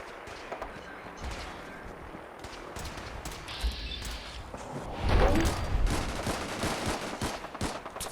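Video game shootout gunfire: a steady patter of shots and bursts that grows louder and denser in the second half, with scattered sharper cracks.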